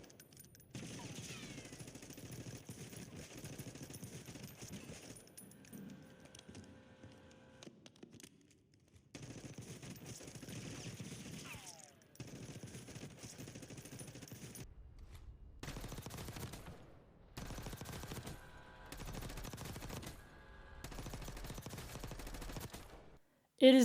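Full-auto fire in Call of Duty Warzone, with long sustained bursts of rapid gunshots broken by short pauses over about twenty-four seconds, loud and alone.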